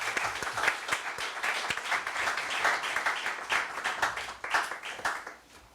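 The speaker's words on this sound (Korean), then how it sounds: "우리 박수 한번 하시기 바랍니다" Audience applause after a Reformed pastors' academy conference lecture on Martyn Lloyd-Jones, a dense patter of hand claps from a seated crowd that holds steady for several seconds, then thins and fades out at the end.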